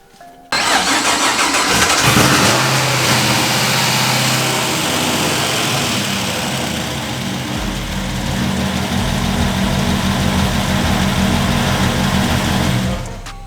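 A Mazda RX8 with an LS V8 swap, high-rise intake and new camshaft cranks briefly, then fires and settles into a loud, lumpy idle that holds steady close by with no talk.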